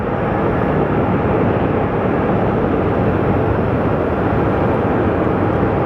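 A passenger airliner in special livery at Sky Harbor Airport in Phoenix, heard as a loud, steady jet engine roar that holds evenly throughout with no break.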